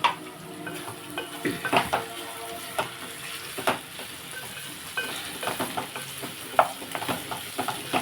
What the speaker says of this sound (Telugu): ఇదిగోండి వేపుతున్నాయి కదండి